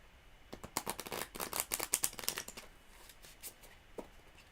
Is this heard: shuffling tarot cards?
yes